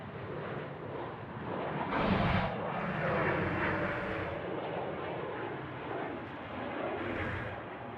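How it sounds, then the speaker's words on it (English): An Airbus A320 rolls down runway 34 at Sydney Airport, its engines a steady, broad, loud roar that swells slightly partway through and holds, with no talking. "We've got an A320 now rolling."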